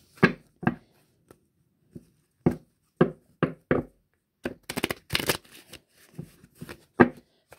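Tarot cards being shuffled for a reading, a series of crisp riffling slaps and flutters coming in irregular bursts, close and fairly clear with no talk over them.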